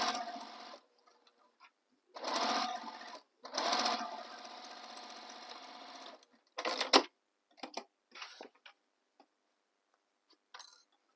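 Sewing machine stitching the side edges of a tote bag, running in several short bursts of quick whirring separated by pauses, with brief taps and handling noises near the end.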